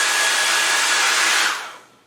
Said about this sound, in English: So for a heat source, all I have is this old hair dryer